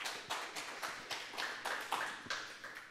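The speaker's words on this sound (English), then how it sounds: "Round of applause for Adam." Sparse, scattered clapping from an audience at a tech talk on Docker and Linux containerization, a handful of separate claps at irregular intervals rather than a full ovation, moderately close in a quiet room.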